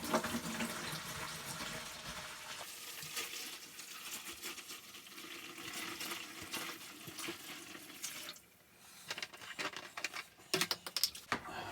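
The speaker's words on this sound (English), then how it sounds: "And then we're just going to pour in the vinegar, a couple gallons of vinegar" Vinegar is poured from jugs into a bucket for flushing a Navien tankless water heater, a continuous splashing, gurgling pour that breaks into uneven glugs and splashes near the end, close and with no talk.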